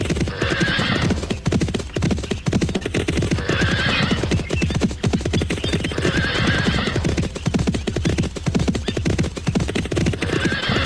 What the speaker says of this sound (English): You can really feel the speed of the horses.